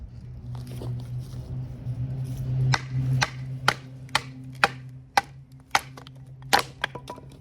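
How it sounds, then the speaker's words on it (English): A Drengr Seax knife by Work Tuff Gear is batoned through old, dry hard wood: about ten sharp, close wooden knocks land at an uneven pace over a low steady hum. "let's do a little bit of batoning with this piece of wood right here"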